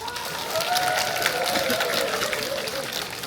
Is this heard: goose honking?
no